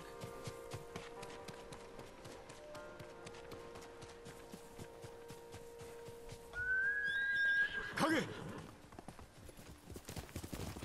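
A horse in the video game Ghost of Tsushima clip-clops along in a steady rhythm, then lets out a loud rising neigh followed by a burst of snorting noise, with hoofbeats continuing afterward.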